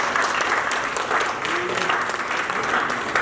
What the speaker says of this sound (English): And we need to clap for ourselves for what we've been doing.